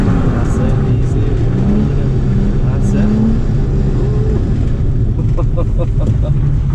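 A Nissan 350Z drifts on an oiled surface, its engine droning and revving loud and close throughout while an instructor talks over it.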